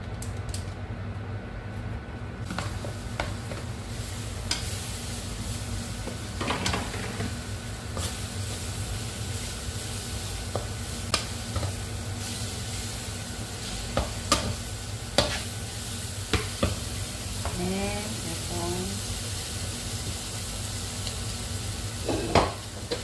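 Food sizzles steadily in a pan with scraping, clinking stirs of a utensil throughout, cooking alongside fried shrimp, tofu and homemade smoked fish; close and alone without talk.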